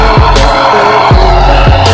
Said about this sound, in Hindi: ट्रैक्टर में देख थोड़ा भी आरपीएम नहीं छोड़ रहा था